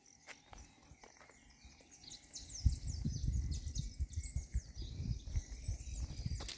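Small birds chirp in a quiet outdoor garden with water and flowers at a country property, their high calls repeating steadily in the background while soft footsteps and low rustling grow louder underneath.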